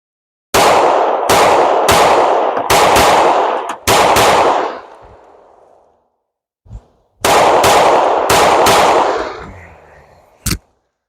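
Loud, close bursts of video game gunfire from a PMM pistol-type weapon, fired as rapid pairs of shots in two volleys separated by a pause, each burst ringing out with a decaying tail, then a final lone shot.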